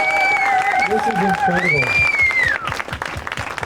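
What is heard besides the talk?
rousing applause for miracle workers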